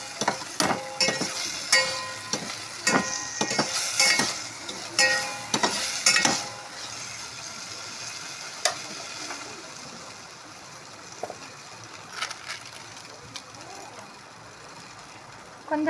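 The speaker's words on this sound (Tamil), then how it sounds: "தக்காளி வந்து நல்லா பச்சை வாடை போடுற அளவுக்கு நம்ம வதக்கிக்கணும்." Tomatoes sautéing in a pan, with a soft sizzle under repeated clinking stirs of a spoon against the pan. The stirring is brisk at first and then eases into quieter, scattered scrapes, heard without talking.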